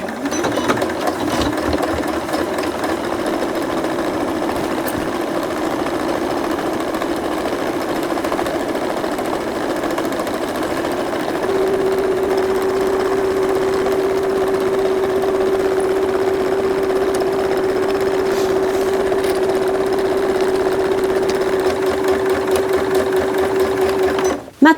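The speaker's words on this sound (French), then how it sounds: "Nous allons commencer à piquer la première partie de la glissière." A sewing machine runs steadily at close range as it stitches a zipper onto a cushion cover for a dog, its fast mechanical whirr unbroken for the whole stretch, with a faint steady tone joining partway through.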